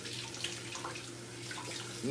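Tap water runs steadily into a pot being rinsed, a faint, continuous rushing with a low background hum and possible murmured voices nearby.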